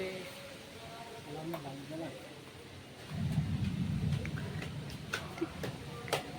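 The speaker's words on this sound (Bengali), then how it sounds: "আমাদের এখানে হাওয়া ছেড়েছে, ঝড় উঠেছে, সব অন্ধকার।" Stormy outdoor weather with a rising rumble of wind and thunder that swells partway through, along with scattered ticking drops, while someone talks over it.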